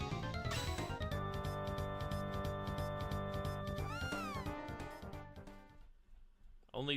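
A cat meowing in the Chrono Trigger video game, a short descending meow that bends downward partway through, sitting under loud, continuous game music.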